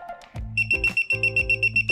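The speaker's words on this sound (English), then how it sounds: "the faster this beeps, that means that you're closer to the leak or the amount of gas coming out is a lot more" A handheld gas leak detector beeps in a rapid, steady series of high, close, loud electronic tones as it senses lighter gas, with a lower tonal hum between beeps.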